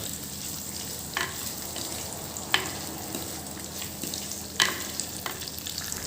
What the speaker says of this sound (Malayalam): ഇനി നമ്മുടെ സ്പെഷ്യൽ മാങ്ങാ ചെത്തിയതും കൂടി ചേർത്ത് കൊടുക്കാം അതും കൂടി നന്നായിട്ട് വഴറ്റിയെടുക്കാം